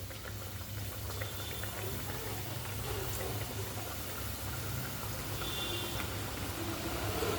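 A continuous sizzling and bubbling of karanji frying in hot oil in a kadhai, steady and close, with a low hum underneath.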